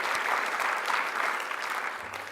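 Audience at a Rule of Law award ceremony gives a short burst of steady applause, a dense even patter of many hands filling the room.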